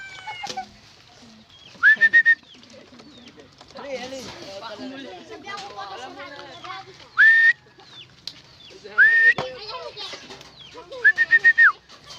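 Young racing pigeons gather at a loft landing board, their soft cooing and wing flutters under someone speaking, broken by repeated loud whistle blasts.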